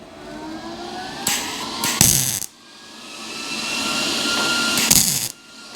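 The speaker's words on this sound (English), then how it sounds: "Give her a little tack weld." Two short, harsh crackling bursts of a tack weld hit car body metal on a 1955 Chevy Nomad, separated by a few seconds of a steady whirring hum.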